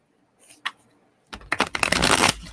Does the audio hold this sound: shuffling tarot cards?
yes